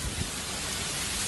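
Hail pours down in the desert as a dense, continuous broadband roar of pelting impacts, loud and close, with no voices.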